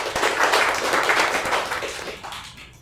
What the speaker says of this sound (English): Applause for Dhawal, everybody.